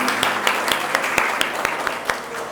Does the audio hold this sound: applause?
yes